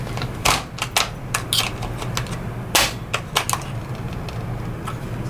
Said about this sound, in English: Insert the magazine until you hear a click or snap sound indicating the magazine is properly locked in.